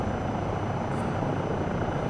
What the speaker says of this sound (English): I'm not used to approaching it in a helicopter